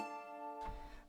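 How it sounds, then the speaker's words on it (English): Plucked dulcimer instrument sound from FL Studio's Labs plugin, a sustained tone with bright harmonics that swells into a fuller struck note near the end, with no talking. "So far I just pulled up this dulcimer sound in Labs."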